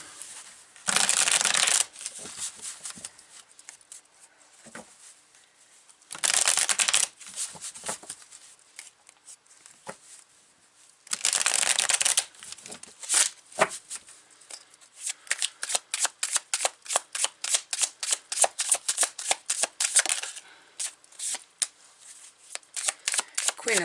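Tarot cards are shuffled up close in three quick riffling bursts, followed by a long run of rapid crisp card flicks and snaps as cards are drawn, with no voices.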